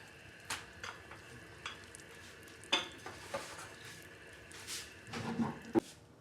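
Roti cooking on a tawa, a quiet soft sizzle broken by scattered clinks and light scrapes of utensils against the pan, with a few louder knocks near the end.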